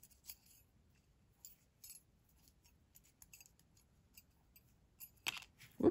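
Scissors make faint, scattered snips while trimming die-cut paper tabs, ending in a couple of sharper, closer cuts.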